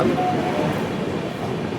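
Saktipunj Express running at night, a steady close rumble and rattle of train wagons on the track, loud and continuous with no whistle standing out.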